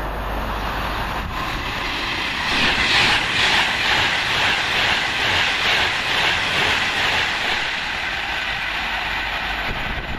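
A Virgin Trains passenger service from Glasgow Central rushes past nearby, a loud, sustained roar and hiss of wheels on rail that swells in the middle and carries on steadily.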